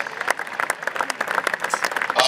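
A church congregation clapping and cheering for the Lord as someone advances: brisk, steady applause mixed with crowd voices and shouts, loud and close throughout.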